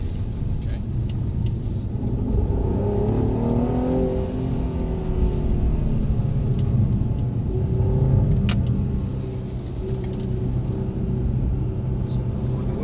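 Mercedes engine pulling hard in sport mode around a track, a steady loud rumble with rising and falling harmonics under an occasional voice.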